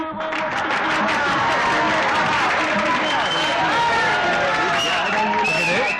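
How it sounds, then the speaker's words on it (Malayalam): A crowd greets Professor Sidhu with applause after his fourteen-hour stay in a snake pit, a dense wash of clapping and cheering mixed with loud overlapping chatter, continuous throughout. "പ്രൊഫസർ സിദ്ധുവിനെ എല്ലാവരും കൈയടിച്ച് സ്വീകരിച്ചു"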